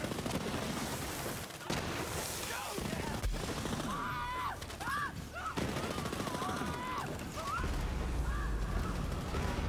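The Polybius, a legendary gun in Borderlands 3, firing in rapid automatic bursts with sharp cracks and explosive impacts. Whistling, warbling energy tones rise over the shots, and someone speaks over the gunfire throughout.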